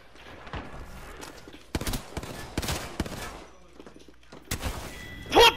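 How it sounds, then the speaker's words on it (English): Gunfire rattles in Apex Legends as an opponent shoots through a door, arriving in sharp, separated bursts of rapid shots between quieter gaps, moderately close. "He's shooting me through the door."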